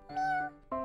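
A voice actor imitates a kitten's meow in a cartoon comic dub, giving a drawn-out meow and then the start of a second one, soft and close.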